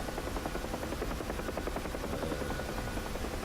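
A Huey helicopter in the DCS flight simulator gives a constant loud rotor and turbine roar with a fast, steady blade chop, unbroken and with no voices.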